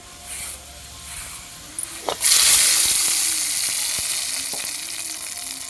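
After a few soft clinks, fenugreek, dried chillies and crushed garlic drop into a hot kadai and burst into a loud, steady sizzle that hisses on and slowly eases off.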